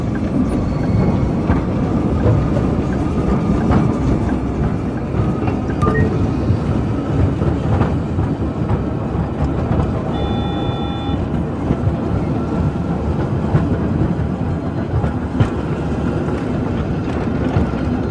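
A tram in a simulator game rolls steadily along urban track, a continuous loud rumble with repeated rhythmic clacks as the wheels cross rail joints, plus faint brief tones near the middle.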